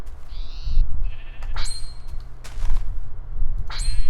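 Blocky sheep in the Minecraft Tekkit modpack bleat several times in quick succession, loud and close, with thuds and clicks of game action between the calls and no voices.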